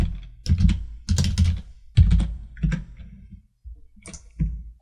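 Close computer keyboard typing while writing C# game code in Unity, in short clustered bursts of crisp key clicks separated by brief pauses.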